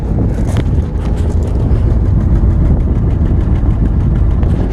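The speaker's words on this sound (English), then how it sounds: "It's idling. Hear it? Hear it idling?" A car engine idles steadily outdoors on a windy day, a constant low rumble with gusty wind buffeting the microphone throughout.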